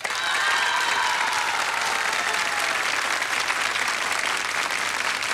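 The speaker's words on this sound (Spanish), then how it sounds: "Primero, aplausos para Sebastián." Audience applause from a crowd at a televised tribute show, a dense, sustained clapping that fills the whole stretch at steady loudness.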